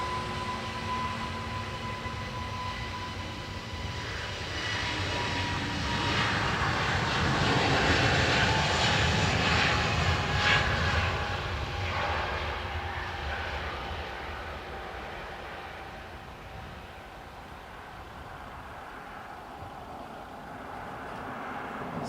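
An Aer Lingus jet airliner bound for Heathrow roars past at Dublin Airport, its engine noise swelling to a loud peak mid-clip and then easing off into a steady, distant rumble.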